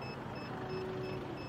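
A DJI D-RTK 2 base station emits faint, evenly repeating high electronic beeps over a low steady outdoor hum.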